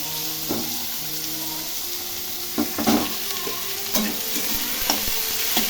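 Small chopped potatoes fry in oil in a pan, a constant bright sizzle broken by several scraping stirs and soft clunks of the spatula against the pan.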